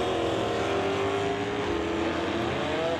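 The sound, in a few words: Mustang drag car launching in stock eliminator race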